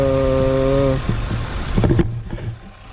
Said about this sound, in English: this is a 4 liter twin turbo V8